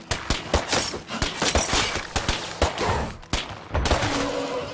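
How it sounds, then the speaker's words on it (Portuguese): Gunfire in the zombie survival game State of Decay 2 on Xbox One, a rapid string of loud, sharp shots in irregular bursts, closely spaced and punchy, ending in a brief lull and then a fainter rumble. "Eu tô atirando e não tô acertando os tiros"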